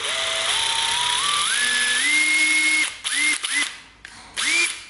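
A Ryobi cordless drill run in reverse, its motor whine climbing in steps as it speeds up and then cutting out, followed by several short bursts, close and loud with no talking.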